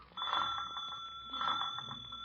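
A bell rings in an old-time radio comedy scene, a bright sustained metallic ringing with steady high tones that carries on for about two seconds, loud and close with no voices over it.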